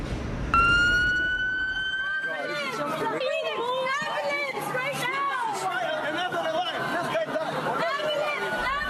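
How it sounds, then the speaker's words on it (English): An ambulance siren wails loudly, starting with a steady tone and then shifting to a rapid warble, over a background of crowd chatter on a crowded downtown strip. "With sirens blaring, an ambulance rushes through this crowded strip"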